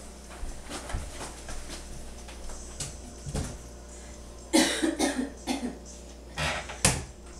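Several short coughs at irregular intervals, fairly close, with quiet kitchen clatter between them.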